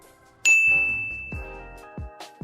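A bright notification bell ding rings out once, sharp and clear, then rings on with a long sustained tone while a few soft low thumps follow underneath.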